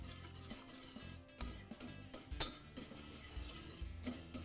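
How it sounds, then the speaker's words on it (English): Ingredients whisked together in a bowl during home cooking, a quiet rhythmic clinking and scraping of utensil against the bowl over several seconds, faint and close. "Whisk that well together."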